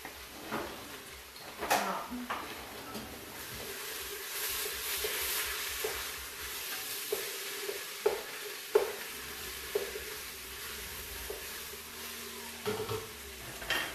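Zucchini and other vegetables stirred in olive oil in a pan for homemade chili, a soft steady sizzle broken by scraping utensil knocks against the pan, with a voice talking at times over it.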